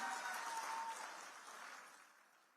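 Crowd at a BJP Vijay Sankalp political rally in Madhosinghana, Haryana, applauding, a dense wash of distant clapping that gradually fades over a couple of seconds.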